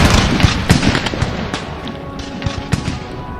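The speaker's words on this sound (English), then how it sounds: "Oh, they're about to fire a volley." Musket volley from massed troops in a Napoleonic battle of Napoleon Total War, a loud crackling burst of many overlapping shots rolling on for several seconds, with no talk.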